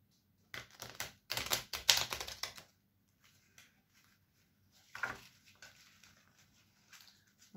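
A deck of cards being shuffled, with a few quick papery riffles up close, then scattered soft taps and slides, followed by quiet stretches.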